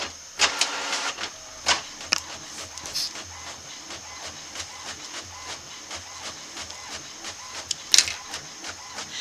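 A home printer prints a document with soft rolling mechanical whirring and intermittent sharp clicks and clacks, moderately near and steady over several seconds, with no talk.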